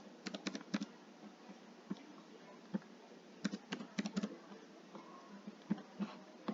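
Fast, irregular clicking of keys on a computer keyboard as a password is retyped, in short bursts with pauses, fairly close and alone without speech.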